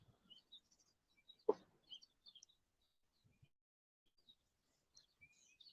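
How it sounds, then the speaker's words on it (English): Baby birds chirp outdoors on a morning walk, a scattering of faint, high, thin tweets spread across the stretch, distant and sparse, with a brief low thump and rustle between them and no talk. "You hear all these little baby birds out here today."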